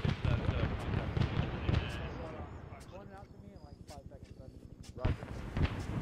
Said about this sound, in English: Wait, are they bombing the village?